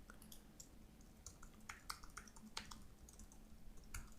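Someone types on a computer keyboard, producing quiet, scattered key clicks in small irregular clusters over a soft background hiss, with no voices.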